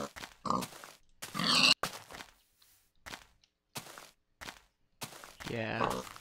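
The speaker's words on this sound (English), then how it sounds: "I'm gonna turn the volume up on the game because I can't hear the pigs die." Pigs in a video game grunt and squeal in short, separate bursts as they are killed, loud and close with gaps of near silence between them, mixed with game sound effects.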